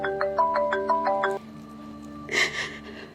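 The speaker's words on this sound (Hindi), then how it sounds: "माँ का फोन।" A mobile phone ringtone plays a short repeated melodic pattern of bright electronic tones for over a second, then stops, followed by a brief burst of noise.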